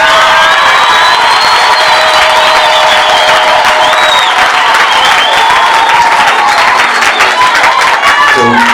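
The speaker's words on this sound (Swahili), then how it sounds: "Alafu naweza kupiga makofi kwa Mungu wa mbinguni." A church congregation claps and cheers for God during a live Sunday gospel service, with loud, sustained applause, whoops and a roaring crowd filling the room throughout.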